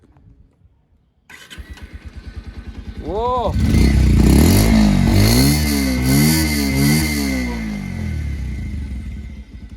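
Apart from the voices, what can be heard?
Bajaj Pulsar 125 Carbon Edition 2023 motorcycle starting and exhaust revving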